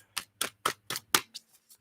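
Tarot cards being shuffled by hand: seven crisp, papery riffle bursts in a quick, even rhythm, close and fairly quiet, the last two softer, with no talking.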